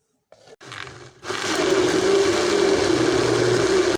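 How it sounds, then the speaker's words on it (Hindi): An electric blender grinds a green moong lentil mixture seasoned with chili, salt and garam masala, starting with two short bursts before settling into a loud, steady motor whir. "अब मैं इसको दोबारा ब्लेंड करूँगी।"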